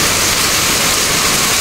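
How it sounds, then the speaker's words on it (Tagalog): Heavy rain from Super Typhoon Kristine pours down in a loud, constant hissing roar with no pauses or voices. "Grabe tong ulan na to, wala nang tigil."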